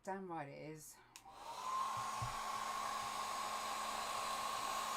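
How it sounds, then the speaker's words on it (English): A hair dryer blows steadily at close range, a continuous whooshing hum with a faint whine, after a brief spoken phrase at the start. "I'm just going to go over with a hairdryer again"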